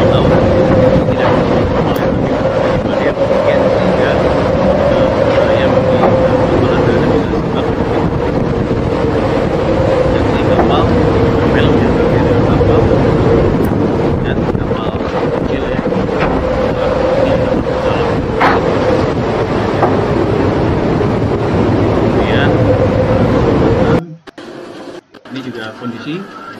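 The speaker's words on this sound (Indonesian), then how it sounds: "kondisi kapal besar, lihat gelombang di depan itu, wah ini udah hurricane ya" A large ship rides through hurricane-force storm waves while strong wind buffets the microphone in a loud, continuous roar for about 24 seconds, then it abruptly drops to quieter, broken noise near the end.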